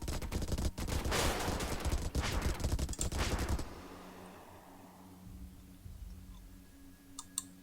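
Missile volleys in a space battle in the strategy game StarDrive: a rapid, crackling barrage of launches and impacts for several seconds, then cutting off to a quiet low hum with a few faint ticks.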